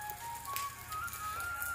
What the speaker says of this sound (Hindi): ये देखो इतनी तेज़ बारिश हो रही है अभी।